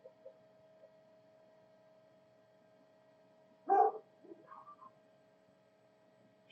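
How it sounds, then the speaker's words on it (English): A neighbor's dog outside the window gives a short, moderately distant bark followed by a couple of softer yelps, with a steady low hum underneath and no talking. "The neighbor's dog."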